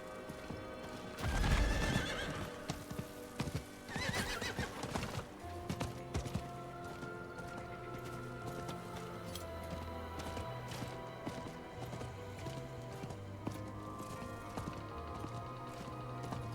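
A horse in the Diablo 4 video game whinnies loudly, followed by a second neigh and then steady clip-clopping hooves under faint in-game music, with no talking.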